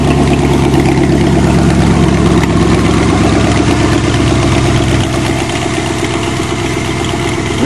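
A Chevy engine idles loudly and steadily while warming up, a dense, close, continuous rumble with a slight dip in pitch near the end and no talking.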